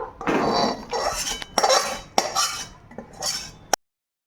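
Cooked prawn curry scraped and poured out of a cooking pot, close and fairly loud, with several clinking metal scrapes of utensil against pot in uneven bursts before a sudden stop.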